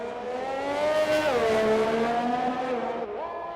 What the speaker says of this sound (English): so we got a McLaren spinning there